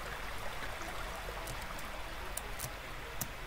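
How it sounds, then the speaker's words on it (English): Underground waterfall in the Terraria video game, a steady rushing stream of water flowing continuously at moderate level, with small splashing ticks over the constant wash. "There's an underground waterfall here."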